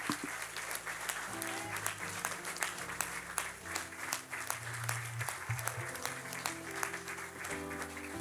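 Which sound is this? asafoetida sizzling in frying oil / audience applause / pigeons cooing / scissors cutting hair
audience applause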